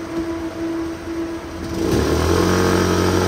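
A small engine on a test run drones at a steady idle, then the throttle opens and it rises to a louder, fuller rev that holds to the end, close and continuous with no talk.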